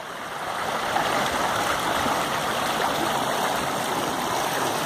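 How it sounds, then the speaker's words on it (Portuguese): Low, shallow river rapids rush steadily beside a forest, a continuous broadband water roar that stays loud and even throughout with no voices. "Aqui era uma corredeira, ó. Só que ela tá muito baixa."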